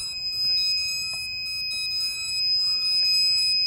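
Steady high electronic beeping from a low-voltage alarm on a DJI F550 Flame Wheel drone with BLHeli-flashed Turnigy Plush 18A ESCs and a KK2 board, repeating tones continuing throughout, close and clear over faint background noise.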